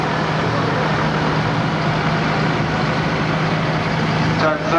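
At a steam rally, a Gardner 180-engined breakdown truck with a crane on the back, still unrestored, runs with a steady low diesel throb and drone, while a commentator's voice carries over it.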